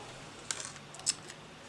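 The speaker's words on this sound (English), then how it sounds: "And here are my scissors" Scissors handled at a desk while setting up a weekly planner with flower stickers, giving two short crisp metallic snips or clicks about half a second apart, close and fairly quiet against a faint background hum.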